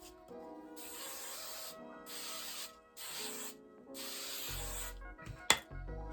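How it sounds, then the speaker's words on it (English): Several bursts of aerosol hairspray hissing onto a wig, each lasting about a second, separated by short pauses, close and fairly quiet, followed by a sharp handling knock. "I had to spray it down because I can't stand to have wig hairs in my face"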